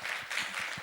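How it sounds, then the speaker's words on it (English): Brief burst of audience applause after a public lecture on managing risk by Professor Wong, a short dense patter of clapping at moderate volume. "Please give a big applause to Professor Wong."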